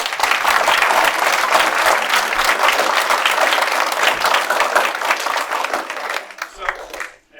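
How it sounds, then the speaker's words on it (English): A scout troop audience at a Court of Honor breaks into sustained, loud applause, dense clapping filling the room for about six seconds before tapering off quickly at the end. "I want to just give them a round of applause."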